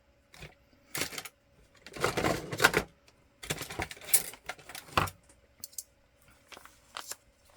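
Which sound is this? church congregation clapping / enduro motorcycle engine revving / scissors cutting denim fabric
scissors cutting denim fabric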